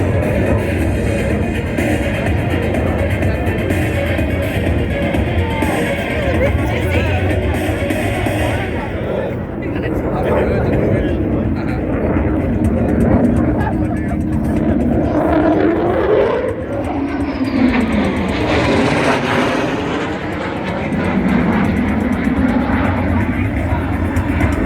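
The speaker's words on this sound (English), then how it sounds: "Heading back in now, 400 knots for an inverted pass." An RAAF F-35A Lightning II jet makes an inverted pass at 400 knots at an airshow, its loud roar building and sweeping past with a rising then falling whine, while a commentator talks over a public address system.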